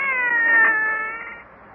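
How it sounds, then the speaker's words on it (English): A single cat meows in an old-time radio comedy about a New York City cab driver, one drawn-out rising and falling meow, close and clear, with no talk over it. "Ah, that was a cat. Ain't you never heard a cat before?"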